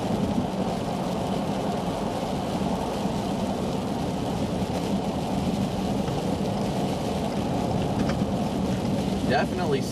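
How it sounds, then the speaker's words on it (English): Sleet striking the windshield of a truck during a winter storm, a dense steady patter over road and engine rumble, with no break throughout. "I think we may be in sleet now. You listen to it hitting the windshield?"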